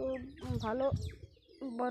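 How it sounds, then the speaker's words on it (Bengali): Birds call in the morning over a rooftop garden with turmeric and dragon fruit plants, giving a few close, clear chirping phrases separated by short gaps while a person speaks briefly. "পাখি ডাকছে"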